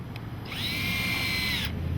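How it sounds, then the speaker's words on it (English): A power drill with a wide, long auger bit bores a hole into frozen ground for a winter sign installation, its steady high whine running loud and close for over a second before cutting off. "You line it up, drill your hole."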